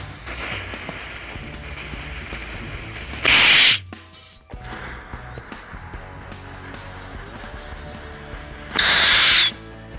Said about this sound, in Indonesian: selanjutnya kita cobain mercon ayam betina